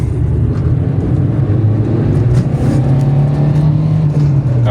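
A Peugeot car engine revs loudly and steadily nearby, its low drone rising and holding at high revs throughout.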